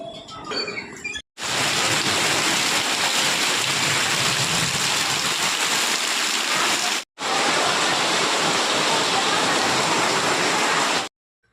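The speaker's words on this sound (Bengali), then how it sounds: "ভীষণ মেঘ করেছে, ভীষণ বৃষ্টি পড়ছে 2-1 ফুট।" Heavy rain pouring down in a village during a long cloudburst, a dense, loud, steady roar filling the air with only brief breaks, no talking over it.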